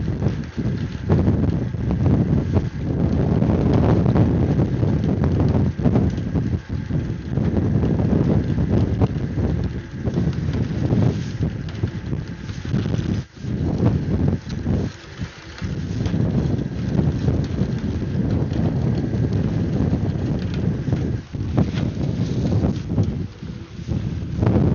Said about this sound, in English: The wind's getting a little stronger too.